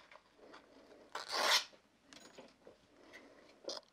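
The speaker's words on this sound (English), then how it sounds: "I'm going to start sanding with 180 grit" Quiet, intermittent rasping of 180-grit sandpaper against a finial spinning on a wood lathe, with one louder scratchy burst midway and short softer strokes around it.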